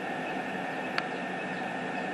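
A model train runs on a test track as a steady, close whirring hum with constant motor noise, broken by one brief tick partway through.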